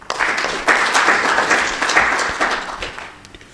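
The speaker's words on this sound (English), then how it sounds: "I would like us to give both of them another round of applause" Delegates at a regional anti-corruption agencies conference give a round of applause, a dense burst of clapping that swells quickly, holds for a few seconds and tapers off near the end.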